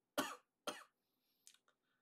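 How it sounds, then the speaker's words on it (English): A person coughs twice in quick succession, sharp and close in an otherwise quiet room, followed by a few faint small throat sounds. "my apologies, I was quite coughing."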